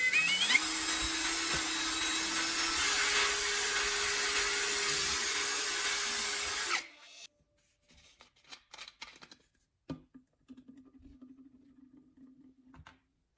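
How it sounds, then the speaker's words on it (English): A step drill bit bores through a plastic bottle cap with a loud, steady whine that shifts pitch partway, then stops, followed by light clicks, handling noises and a brief softer buzz. "Use a step drill bit to make a clean hole right in the center of the cap."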